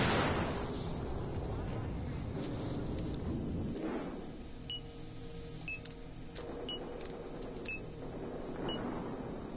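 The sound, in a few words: incendiary grenade going off in Battlefield Hardline video game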